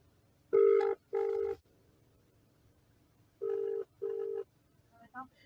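Mobile phone ringing with an incoming call, two pairs of short, bright ring bursts separated by a pause, close and clear, followed by a brief fainter tone at the end.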